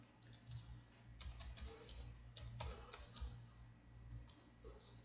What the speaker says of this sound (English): type in my secure password.